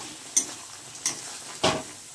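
A spoon stirring a fried spice mix with bay leaf into crab curry in a pan, three short scraping strokes over a soft, steady sizzle, close and clear.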